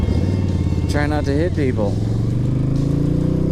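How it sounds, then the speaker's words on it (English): A motorcycle engine drones steadily while riding through 30-40 mph wind gusts, with someone speaking briefly over the constant low rumble. "I'm gonna be riding and listening to the motor and the breeze"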